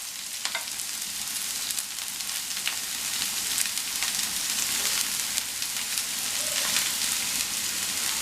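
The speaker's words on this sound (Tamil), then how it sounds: "இதை வந்து ஜஸ்ட் கொஞ்சம் வதக்கினா போதும்" Curry leaves, cabbage and carrot sautéing in hot oil, a steady close crackling sizzle with occasional stirring scrapes throughout, no voices.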